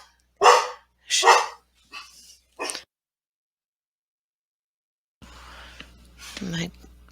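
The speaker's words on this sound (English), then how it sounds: "And of course, made the dog bark." A dog barks after a knock at a home door, three or four sharp, fairly loud barks in quick succession, then a short silence before a person starts talking quietly.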